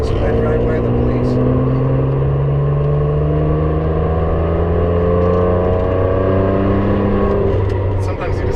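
A 2007 Ferrari 599 with a straight-pipe exhaust accelerating, its loud engine note climbing steadily in pitch and holding strong throughout, close and continuous.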